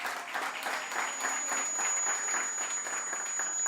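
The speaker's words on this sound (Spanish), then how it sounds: "Denle un aplauso a Cristo, por favor" A church congregation applauds steadily for the full stretch, a dense, even wash of clapping from many hands without pause.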